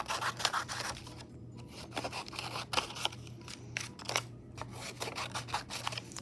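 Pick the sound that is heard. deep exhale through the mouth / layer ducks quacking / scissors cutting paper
scissors cutting paper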